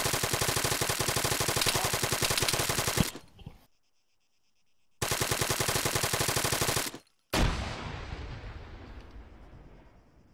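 Arma 3 video game gunfire: two long bursts of rapid automatic fire, loud and dense, broken by a short silence, then a final heavy shot or blast that rings out and decays.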